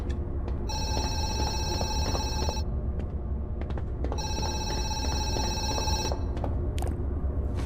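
A telephone rings in the horror game Zoochosis, two long repeated electronic ring bursts separated by a pause, clear over a low ambient hum.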